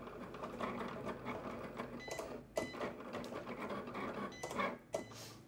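A Cricut cutting machine fitted with the foil transfer tool runs with a continuous mechanical whir and buzzing motor, broken by a few sharper clicks and knocks as the carriage shifts, heard close but fairly quiet.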